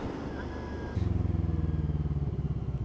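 A Suzuki DL 650 V-Strom motorcycle's V-twin engine throbs close by in a steady, pulsing rhythm, rising in intensity after the first second as it pulls along.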